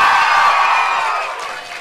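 A crowd at a youth poetry slam in Scotland gives a short loud practice cheer, whoops and shouts washing together and fading slightly toward the end.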